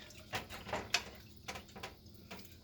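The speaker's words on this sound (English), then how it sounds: "Let's get our milk added here. And we're going to whisk" A whisk works milk into a flour roux in a pan for dark German beer cheese dip, giving close, irregular metallic taps and light scraping clicks with no voices.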